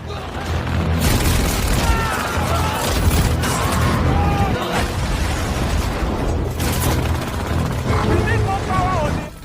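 A dense, continuous barrage of booms and bursts with clattering mechanical noise, loud and chaotic throughout, from a staged film battle with gunfire and explosions against Nazis.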